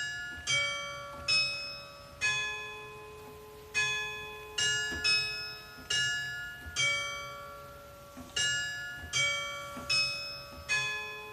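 Carillon bells in Ghent, Belgium ring out a slow melody, each struck bell sounding clearly and decaying into the next in a steady sequence of about a dozen strikes, heard alone at moderate distance.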